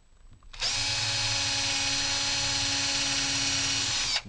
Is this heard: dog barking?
no